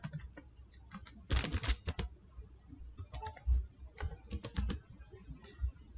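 Typing on a computer keyboard in quick, uneven bursts of clicking keystrokes, close and fairly loud, with short pauses and a flurry of faster presses partway through.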